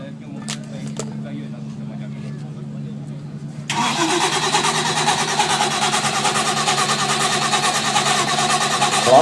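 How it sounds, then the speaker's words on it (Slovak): A 2400 hp dragster engine fires up about a third of the way in, jumping from a low mechanical rumble to a loud, dense, sustained roar that holds steady to the end. "ako čo len naštartujú tento motor."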